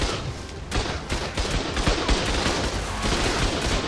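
Rapid gunfire in the video game ARK during a PvP fight, continuous bursts of cracking shots from several directions, close and fairly loud throughout with no talk.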